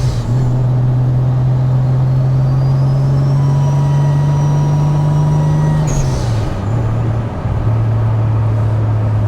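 Toyota 7M-GTE engine with sequential fuel injection idling with an abnormal noise, a loud steady hum joined by a thin whine that dips and shifts partway through, close and continuous.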